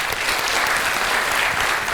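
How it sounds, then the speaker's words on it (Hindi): An audience applauds loudly and continuously, a dense, even wash of clapping filling the room. "नेहा के लिए बहुत तालियां।"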